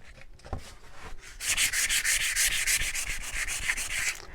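Sanding paint off a wooden shiplap platter, a quiet tap or two, then a steady rhythmic scrubbing rasp of abrasive strokes on wood that keeps going to the end, close and alone.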